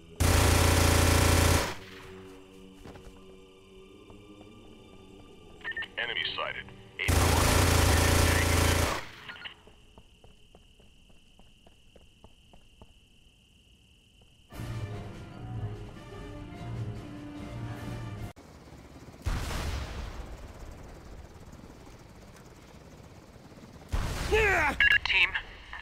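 AK rifle fire bursts in the SOCOM video game, loud rapid machine-gun rattles in several separate volleys with quieter game noise between them; voices talk around the shooting.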